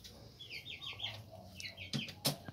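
Hens cluck and murmur in short broken calls close by, with a black hen and a rooster present, a couple of sharper squawks near the end and faint farmyard noise behind.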